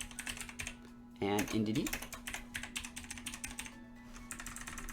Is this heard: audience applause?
no